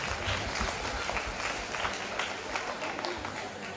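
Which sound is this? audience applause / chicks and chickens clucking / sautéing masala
audience applause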